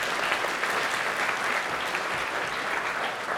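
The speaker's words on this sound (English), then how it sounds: "Let's give them a round of applause." Steady, dense applause from a conference audience at a multiple sclerosis treatment event, loud and continuous for the whole stretch with no speech over it.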